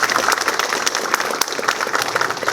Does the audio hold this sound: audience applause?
yes